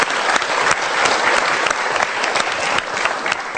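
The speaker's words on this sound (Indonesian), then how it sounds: "Kita berikan tepuk tangan dulu." Audience applause during a Mario Teguh motivational talk show, a dense, even wash of many hands clapping that holds steady for a few seconds at moderate loudness.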